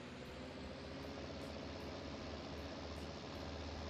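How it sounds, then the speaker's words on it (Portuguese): A 7610 tractor engine idles in a farming video game, a steady low rumble that holds constant and alone throughout. "Bora pegar o nosso 7610 aqui e se mandar para lá então. Ligou aqui tudo certinho."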